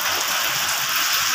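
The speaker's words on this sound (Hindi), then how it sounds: "बारिश हो रही है बहुत ज़बरदस्त किस्म की।" Heavy rain pours down in the corridor of a house in Karachi, a dense, steady hiss of drops striking surfaces with no voices over it.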